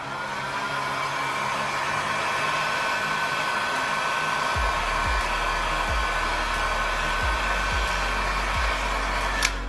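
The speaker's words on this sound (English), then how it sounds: "I like to do this, blow a little bit of heat on there again." A heat gun blows hot air over fresh adhesive on a Samsung Galaxy S22 Ultra during a phone repair, giving a steady loud whooshing roar with a low motor hum that shifts partway through.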